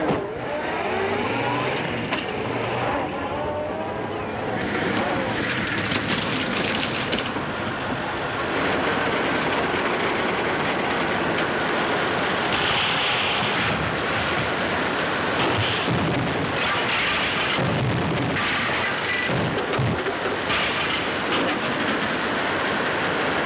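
A 1936 Earthworm tractor drives through a swamp, its steady, loud mechanical rumble and rattling running continuously and close without speech.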